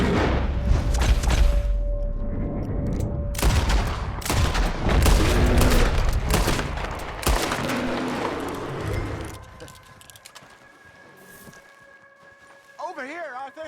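Gunfire in a Red Dead Redemption 2 gameplay scene, a dense, loud stretch of shots and booms mixed with shouting voices, easing off into quieter game sounds and a musical tone near the end.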